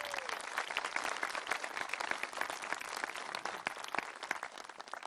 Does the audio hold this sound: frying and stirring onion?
no